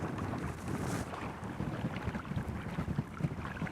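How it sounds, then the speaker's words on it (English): Strong wind of about 25 knots buffets a fishing boat off Sydney at night, a steady broad roar of wind and water noise with gusty swells, loud and close throughout, no voices. "She's blowing about, well, good solid 25 knots, making it really difficult to see."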